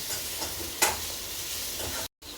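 Tomatoes fry in a pan with a steady, close sizzle and a faint stir or scrape partway through, ending in a brief cut to silence.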